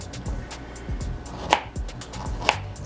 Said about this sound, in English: And next we're just going to chop that into little pieces